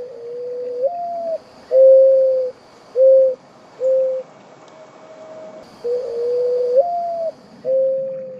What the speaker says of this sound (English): This bird is called a mourning dove.